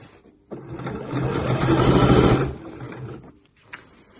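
Sewing machine stitching the bottom edges of a bag base and its lining, a close, steady motor whir lasting about two seconds that rises and then stops, followed by a brief click.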